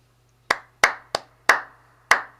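Five sharp hand claps alone in a syncopated cascara pattern, each crisp and close with a short decay, spaced unevenly over a couple of seconds against a low steady hum.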